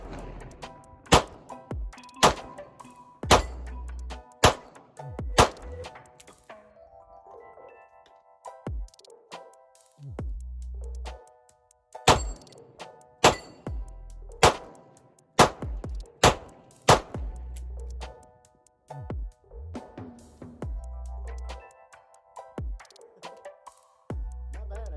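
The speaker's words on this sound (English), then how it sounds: "we're just gonna shoot and see how fast we can do a reload with the moon clip here" A Rock Island Armory AL 9.0 revolver fired outdoors in sharp, loud single shots in two strings, separated by a metallic clicking moon clip reload, then further spaced shots.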